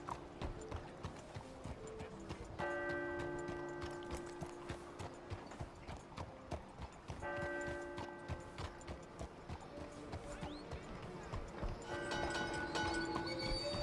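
Horse in Red Dead Redemption 2 walking with steady hoof clip-clops, broken by several loud whinnies and snorts, with faint mechanical clicks in the background.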